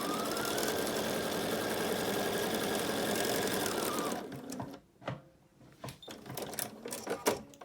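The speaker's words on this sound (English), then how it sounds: "So we're just going to sew these two edges together" Sewing machine running steadily and loud for about four seconds as it stitches two edges of a fabric face mask together, then stopping, followed by softer handling clicks and rustles.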